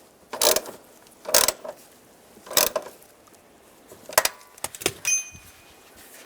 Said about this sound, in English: And tighten this bolt as well.